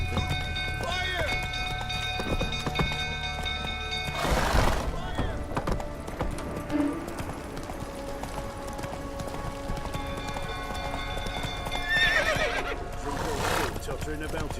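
Roach the horse in Witcher 3 clip-clops at a quick pace and lets out two loud, sharp neighs, one early and one late, under game dialogue and ambient music.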